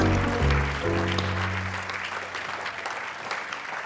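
A small studio group claps for a correct answer on a basketball talk show, a short burst of applause at moderate level that tails off, with a voice speaking briefly over the start.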